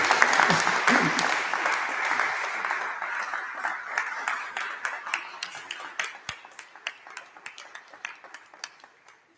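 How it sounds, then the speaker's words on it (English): Audience at an annual award celebration claps for an honoree; a full round of applause dwindles gradually into a handful of scattered, distinct claps by the end. "round of applause for you"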